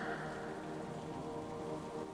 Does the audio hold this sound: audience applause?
no